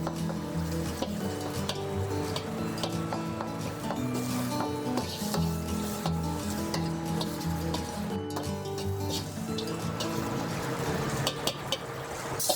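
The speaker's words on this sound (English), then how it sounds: "You'll want to smash your black beans so that you'll get the most amount of flavor." Black beans sizzle and crackle in a hot wok while being smashed, with continuous frying hiss and repeated scraping, tapping spatula strokes against the metal, close and steady.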